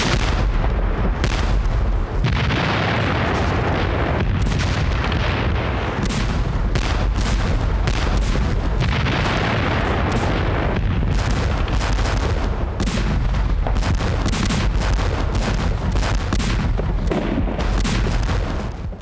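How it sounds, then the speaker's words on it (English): A heavy World War I artillery barrage, the final and heaviest bombardment, thunders as dense, overlapping booms and blasts, loud and continuous for nearly twenty seconds with no pauses or voices. "at 6:30 a.m. on July 1st, the final and heaviest barrage was unleashed"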